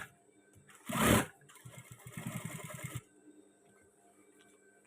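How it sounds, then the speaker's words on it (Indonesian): A sewing machine stitching a men's batik shirt: a short whir, then a rapid, even run of mechanical stitching that lasts about a second before stopping, with quiet room noise around it. "Oke, ini langsung kita jahit pas bagian tengahnya."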